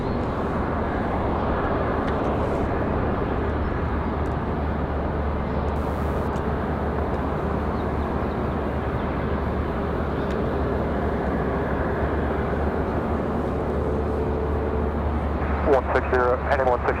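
An American Airlines Airbus A321 departing Raleigh-Durham for Charlotte, its engines a continuous broad low roar heard from a distance, with people talking over it.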